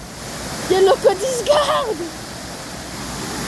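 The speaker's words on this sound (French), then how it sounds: "Trop stylé, la cascade." Waterfall tumbling over stone, a steady loud rush of falling water that runs throughout, with a person talking over it briefly in the middle.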